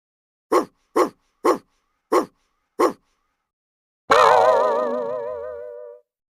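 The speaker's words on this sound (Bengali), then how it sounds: "মনে হচ্ছে কোনো কুকুরের বাচ্চা গর্তে পড়ে গেছে" A cartoon puppy stuck down a hole gives five short, evenly spaced yelps, then a single long, wavering whine that fades out.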